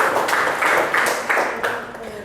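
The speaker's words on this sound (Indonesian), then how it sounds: "Tepuk tangan buat kelompok 1." Students in a classroom clap for group 1 after its presentation, a short run of about six rhythmic claps that start loud and fade slightly over a couple of seconds.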